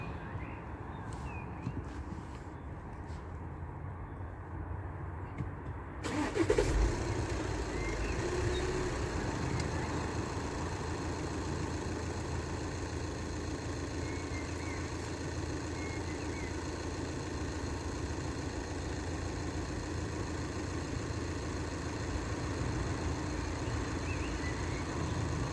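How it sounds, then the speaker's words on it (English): A car engine, apparently a diesel with a particulate filter and a suspected faulty DPF sensor, idles steadily, a continuous low rumble that grows fuller after a quieter opening few seconds. "at idling, and then I'm gonna rev the engine at 2500"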